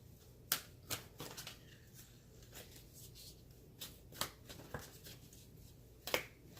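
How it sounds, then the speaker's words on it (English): A new deck of thick, wide oracle cards shuffled by hand, with sparse sharp riffle snaps and soft sliding rustles, close and quiet. "I know I look like I'm struggling in my shuffling here"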